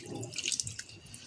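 Tamarind water poured into a spiced fish fry marinade, heard as a brief, close run of light drips and splashes lasting barely more than a second.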